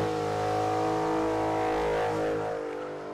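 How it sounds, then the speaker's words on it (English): A car engine revs hard with a strong sustained roar and harmonic whine, like a burnout, then fades slightly as the car pulls away. "you're gonna do a burnout around the two guys you just stole it from and take off the other way"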